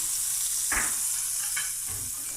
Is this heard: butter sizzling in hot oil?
yes